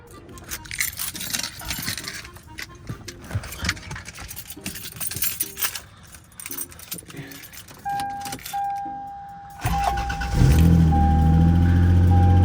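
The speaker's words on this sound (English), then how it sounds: "we're gonna plug the battery in, start the car" Keys jangle and clatter for several seconds, a steady chime sounds, then a Lexus GS300/IS300 engine cranks and catches into a loud, rumbling idle.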